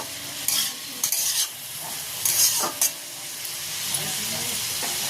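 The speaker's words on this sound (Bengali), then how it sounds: "নুনটা ভালো করে নাড়াচাড়া করে সবজির সাথে মিশিয়ে নেব" Salted mixed vegetables for fried rice are stirred in a hot pan, with close, loud sizzling and steamy hiss under repeated spatula scrapes and bursts of tossing throughout.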